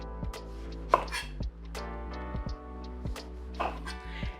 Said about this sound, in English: All we're going to do is we're gonna chop off both ends.